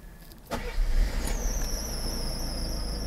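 A red 1991 European-spec Mercedes-Benz W124 300CE cranks with a short starter whine before its engine catches and settles into a steady, close idle, with a faint high-pitched squeal running above it.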